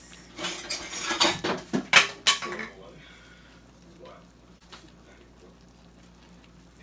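Plate and cutlery clatter during Nigerian white soup preparation: a burst of sharp metallic clinks and scrapes across the first few seconds, close and fairly loud, then fading to a quiet room with faint sounds.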